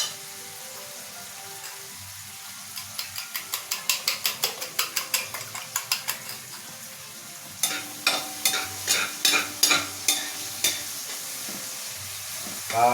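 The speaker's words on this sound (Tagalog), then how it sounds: "Pagluto na ito yung itlog" An egg frying in a pan along with tomato and onion, a soft sizzle under bursts of rapid, regular clicking and tapping from the utensil that come in two runs.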